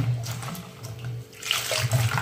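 Tap water runs as drumstick pods are washed in a kitchen sink, a close, steady splashing stream that grows brighter and heavier toward the end.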